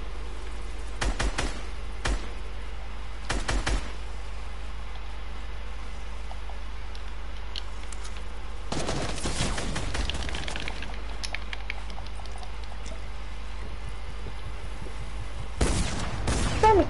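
Gunfire in an online shooter match, clusters of quick cracking shots in short bursts with a longer volley midway, over a constant low game rumble.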